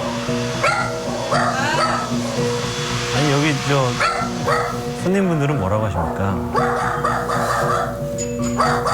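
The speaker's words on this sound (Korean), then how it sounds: "오늘도 짖는 모습 제대로 보여주는데요" Spitz dog barking hard and repeatedly inside a hair salon, loud yaps over a steady hair dryer hum, with people talking throughout.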